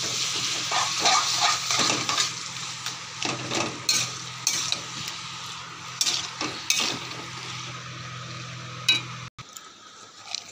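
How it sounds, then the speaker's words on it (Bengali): Taro leaves (kochu shak) stirred in a hot cooking pan: a low sizzle under repeated scraping strokes and light metallic clinks of a spoon, close up, with no voices. "আর এখানে যে কচুর শাকটা সেটা আমি এখন দিয়ে দেবো, দিয়ে ভালো করে কষিয়ে নেড়ে নেব।"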